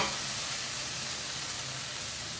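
Coconut milk and chili oil simmering in a pan while mussels are being cooked, a steady, close, broadband sizzle and bubbling hiss that stays even throughout without pauses or voices.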